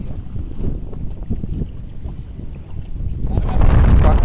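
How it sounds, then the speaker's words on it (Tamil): Strong gusting wind buffets the microphone aboard a fishing boat at sea on a carp fishing trip, with a rumbling roar that swells louder toward the end; faint voices are in the background. "இன்றைக்கி காற்று கொஞ்சம் அதிகமாக இருக்குது."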